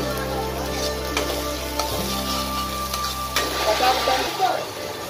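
Onions sauté in oil in a pan for a home-style curry, a close, steady frying hiss with occasional stirring scrapes and clinks, over a low constant hum, and no one speaking.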